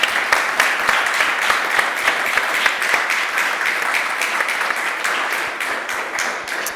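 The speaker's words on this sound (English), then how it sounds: "I think this brings the applause." An audience in the Teatro at Badia Fiesolana applauds its panelists, dense steady clapping that holds loud from start to finish and tapers slightly near the end.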